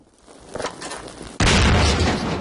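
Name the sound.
explosion in video game Half-Life 2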